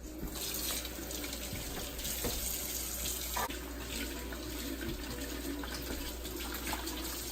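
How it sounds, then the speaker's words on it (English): A kitchen tap runs in a steady, unbroken stream while hands are washed before cooking. The water is close and constant, with no talking. "before you start cooking, you always want to wash your hands."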